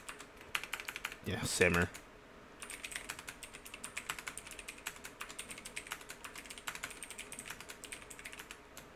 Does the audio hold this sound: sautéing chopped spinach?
no